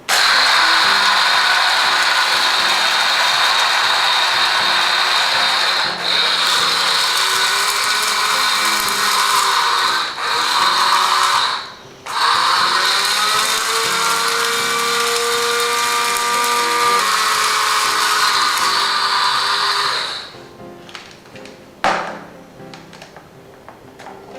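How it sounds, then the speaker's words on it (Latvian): An electric coffee grinder whirs steadily as it grinds oat flakes with dried herbs, including lavender, for a face scrub, a loud close motor drone with brief dips in pitch, then stopping and leaving faint rattles. "Visu kafijas dzirnaviņās rūpīgi samaļam."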